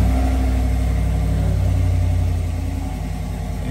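A Chevrolet Silverado Z71 pickup engine running at a steady idle, a low continuous rumble that stays loud and even, easing slightly toward the end.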